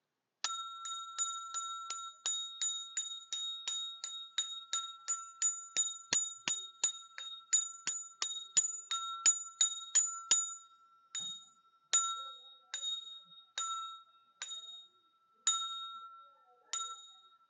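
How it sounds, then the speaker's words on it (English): A small metal bell, rung like a dinner bell, chimes in a rapid run of bright, ringing strikes that gradually slow to spaced single dings, each tone lingering clearly and alone. "So I ring it like a dinner bell."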